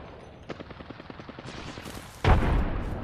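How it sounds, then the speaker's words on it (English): Enemy gunfire in a video game crackles as a rapid run of evenly spaced shots, then a louder heavy burst of fire erupts near the end, all with no talk over it. "The enemies are shooting at me."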